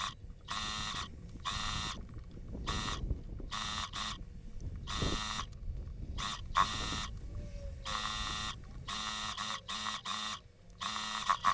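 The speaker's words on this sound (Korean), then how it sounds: "그 다음에 쭉 박음질 해주도록 하겠습니다." A sewing machine stitches the seam of a front-buttoned midi dress in close, intermittent bursts of rapid whirring, separated by short pauses.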